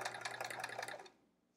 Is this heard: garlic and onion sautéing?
no